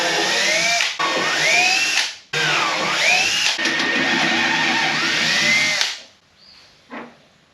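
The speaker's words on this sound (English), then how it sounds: "I'm going to pre-drill these holes." A power drill pre-drills holes in a router table cabinet, running in loud sustained whines that rise and fall in pitch through two short pauses before the motor cuts off and spins down.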